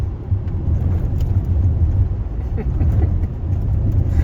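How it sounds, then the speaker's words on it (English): Car driving over a terrible, bumpy road, with a loud steady low rumble and road noise from inside the cabin, with faint bumps and knocks throughout. "Y'all, this road is so terrible and bumpy"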